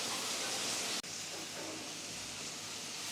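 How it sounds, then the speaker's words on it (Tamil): Cabbage and small onions sautéing in a pan: a steady, even sizzling hiss runs throughout, broken by one brief dip near the start, with no talking. "முட்டைக்கோஸ் சின்ன வெங்காயம் போட்டு நல்லா வதக்கிட்டு இருக்கேன்"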